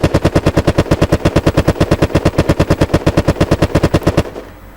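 Rapid, steady bursts of automatic gunfire from the video game Unturned 3.0, loud and close, firing continuously for about four seconds before cutting off.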